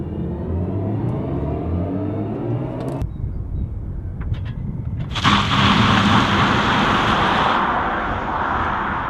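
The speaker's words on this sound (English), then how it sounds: "when you just activate the launch control, you can hear like some sort of a build-up from like the engine or the speakers" A BMW M50 electric car in launch control mode sends out a synthetic engine build-up, a loud, steady droning whir that swells partway through into a fuller, brighter roar and holds it.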